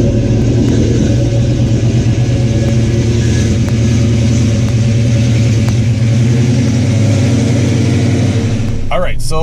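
Ford Mustang Foxbody with a 5.0 small-block V8 and a Comp Cams XE266HR camshaft, heard from inside while cruising: a loud, steady low engine rumble with a slight lumpy throb, continuous throughout and no talking.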